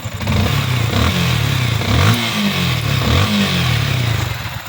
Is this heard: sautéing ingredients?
no